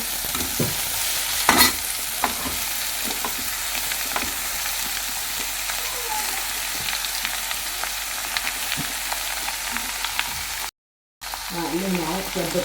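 Chopped tender jackfruit is stir-fried in a pan in a home kitchen, giving a steady sizzle with repeated scraping and stirring clicks of a spatula. Faint voices murmur now and then, and the sound drops out for a moment near the end.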